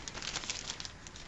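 A plastic bag crinkles and rustles continuously up close around homemade wheat flour tortillas, a busy crackling texture at moderate volume with no talking.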